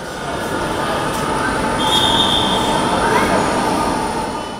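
A metro train rolls steadily with a broad rumbling roar, a faint squeal rising briefly midway; constant and fairly loud, no voices.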